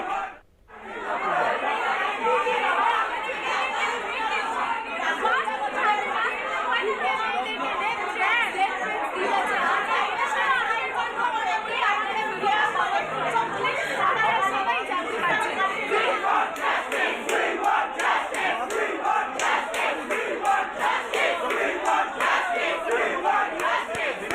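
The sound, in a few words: students chanting 'We want justice' slogans at a protest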